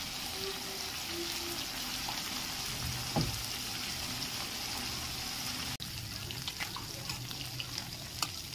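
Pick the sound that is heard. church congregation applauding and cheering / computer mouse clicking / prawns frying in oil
prawns frying in oil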